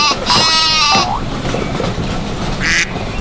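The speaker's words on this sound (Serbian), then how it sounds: "Ovca." A sheep bleats once in a long, wavering, fairly loud call in a children's animal-train cartoon, followed later by a brief nasal animal call.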